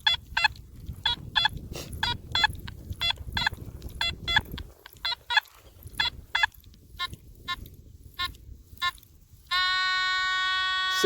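A metal detector repeats a mid-pitched target tone in short, regular beeps over a rough scraping background, then the signal switches to a loud, steady, sustained tone near the end.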